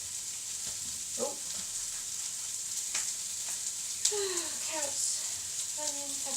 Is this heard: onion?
yes